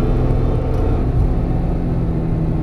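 A Porsche 911 Turbo S pulls out of a corner on track under throttle, a loud, steady low engine rumble with road and wind noise filling the cabin, no speech heard.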